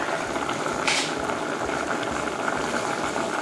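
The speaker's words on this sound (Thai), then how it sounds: "นี่เราต้มมาสักพักจนกระทั่งเดือดแล้วนะคะ" Job's tears grain porridge boiling steadily in a pot, a dense continuous bubbling hiss with a brief brighter burst near the start, close and alone with no talking.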